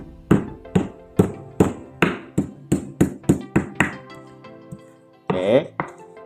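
Onion or garlic is pounded to crush it, heard as a run of about ten sharp, evenly spaced knocks that slow and fade, followed by a brief scrape and one more hit.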